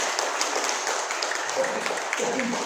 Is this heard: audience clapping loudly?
yes